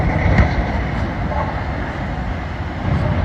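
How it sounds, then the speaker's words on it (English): A train rumbles past with steady heavy clatter and grinding, loud and continuous, with a few brief sharper bumps, as it collides with a semi-truck stuck on the tracks and derails. "We got a big train derailment going here, guys."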